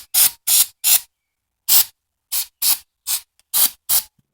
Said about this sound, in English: I'd use some carb cleaner or what have you.